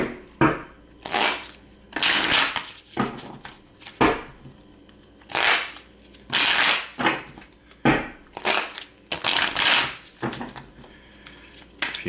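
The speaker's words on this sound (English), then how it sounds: "A few shuffles this way, 3 that way, and then we are cutting it." A tarot deck shuffled by hand again and again, bursts of crisp riffling card flutter a second or so long separated by short pauses, close and clear with no talking.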